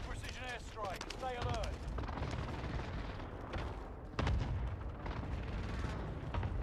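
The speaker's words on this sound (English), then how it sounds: "Enemy precision airstrike" Explosions and gunfire from a precision airstrike in Call of Duty MW2 Warzone Rebirth, heavy booming blasts and rumble layered over constant battle noise, with a sudden loud impact partway through and voices in the mix.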